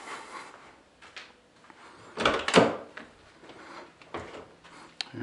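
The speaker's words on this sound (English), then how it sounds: "Here's the other rear door opening." A Ford Crown Victoria rear door unlatches and swings open with a solid clunk midway, surrounded by quieter handling rattles and clicks, close by with no talking.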